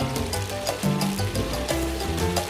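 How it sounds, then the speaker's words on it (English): Ingredients sizzling and frying in a pot for Nigerian party soup with egusi, a steady crackling sizzle with soft stirring scrapes, close and continuous with no talk. "still fry it, to stir it around, stir it so that it will not get burnt"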